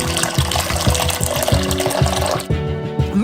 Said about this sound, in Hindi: उबलते पानी के 2 लीटर डालो।